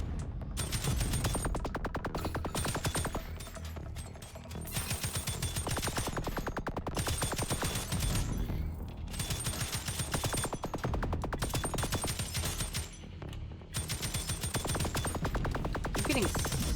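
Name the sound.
rifle gunfire in a video game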